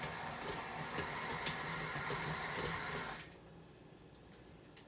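A stand mixer churns chocolate chip cookie dough with a steady mechanical whir and light rattling for about three seconds, then winds down to a quiet hum.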